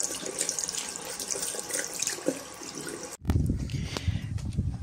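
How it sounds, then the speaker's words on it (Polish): Tap water running into a sink from separate hot and cold taps, a steady close rush that cuts off briefly and resumes with a fuller, heavier splash. "Masz tu ciepłą wodę, tu masz zimną wodę."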